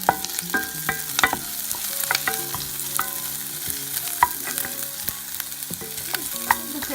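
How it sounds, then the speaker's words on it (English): Food simmering gently in a pan on very low heat, a soft continuous bubbling sizzle punctuated by scattered clinks and light taps of a utensil against cookware. "this will just simmer for a little bit"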